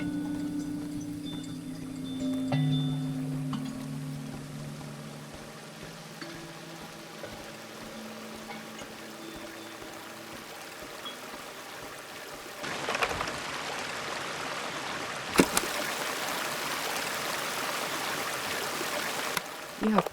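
A freshwater stream in the village of Season: A Letter to the Future runs as a steady, moderately loud rushing wash under a low humming drone, with brief clicks and the flow swelling louder near the end.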